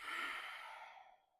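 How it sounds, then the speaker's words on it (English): A single slow exhalation during a gentle Pilates flow, a soft breathy rush that starts full and tapers away over about a second, close and quiet with no speech. "Breathing out,"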